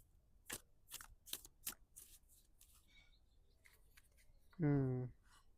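Tarot cards are shuffled in a series of quick riffling bursts, then a brief voiced sound cuts in near the end.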